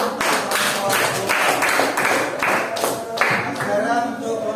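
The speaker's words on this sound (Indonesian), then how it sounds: "Oke, beri tepuk tangan dulu untuk kelompok 2." Classroom audience clapping for a student group after its presentation during a teaching exam: a steady run of dense, fairly close hand claps with soft voices beneath.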